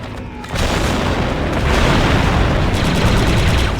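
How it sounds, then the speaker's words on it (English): A demolition charge detonates in the video game Star Wars Republic Commando: a sudden loud boom bursts in after a brief quiet moment, then gives way to a sustained, dense roar of combat noise with scattered gunfire-like cracks. "The charge is set and ready to detonate."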